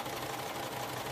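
A sewing machine hums steadily while sewing down the seam of an open back pullover, a brief continuous run heard close.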